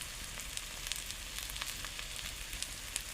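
Slices of snake gourd (padwal) fry in a pan with a faint, steady sizzle and scattered soft crackles and pops, with no voices.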